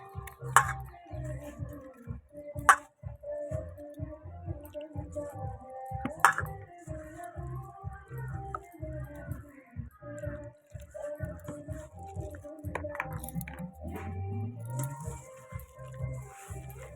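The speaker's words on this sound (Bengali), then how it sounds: "এর মধ্যে আমি বেসন দিয়ে দিয়েছি এবার বেসন দিয়ে এটাকে ভালো করে মাখবো" Mustard flowers mixed by hand with gram flour and water into a batter make soft, rhythmic wet squelches, with occasional small clinks against the bowl.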